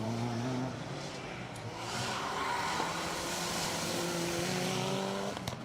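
Mitsubishi Evo 3 rally car at the Brands Hatch Winter Stages, engine note rising and falling as it works through the circuit, heard at a moderate distance with steady crowd and ambient noise.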